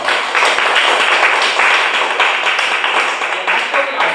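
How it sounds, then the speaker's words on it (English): A workshop audience on public speaking breaks into applause, a loud, close, continuous patter of many hands clapping that holds steady for several seconds with no voices standing out. "Give yourself a big round of applause."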